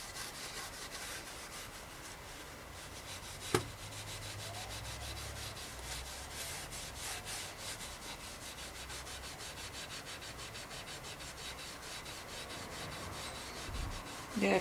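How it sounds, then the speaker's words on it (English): Wire wool rubs paint off the frame of a 1962 Mercier Mixte vintage bicycle, making a faint, continuous scratchy rubbing with a rapid back-and-forth rhythm, close up, with a single sharp knock partway through. "wire wool, just to rub it on"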